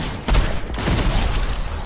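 Gunfire in the Fortnite video game: a dense, continuous burst of rapid shots lasting about two seconds, loud and close, with a sharp onset just after the start and no talk over it.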